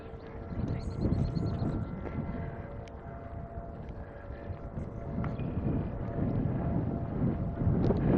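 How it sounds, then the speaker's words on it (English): Wind buffeting a microphone outdoors in a park in Regina: a steady, loud low rumble with gusting surges lasting throughout, and no talking. "Found the wind again."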